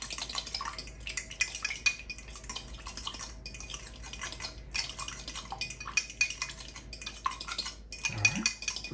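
A spring salad seasoned with salt and pepper is stirred in a bowl, giving steady clinks and scrapes of a utensil against the dish with wet tossing sounds, close and alone.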